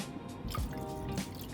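Water drips and splashes into a homemade mist maker's reservoir, a few distinct plops over a steady low hum.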